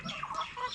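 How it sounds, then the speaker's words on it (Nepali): A village hen clucks in a brief, quiet burst of a few quick, throaty calls, heard alone. "एक कुखुरा कति कराएको"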